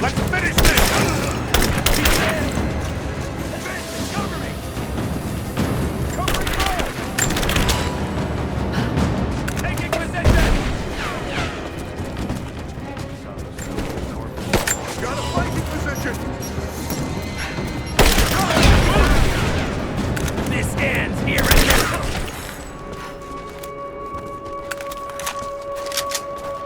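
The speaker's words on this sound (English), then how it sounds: "Laying down covering fire." Covering gunfire in Rise of the Tomb Raider: loud, sustained bursts of rapid shots and booms with heavy crashes, nearly continuous before easing off toward the end, with game voices mixed in.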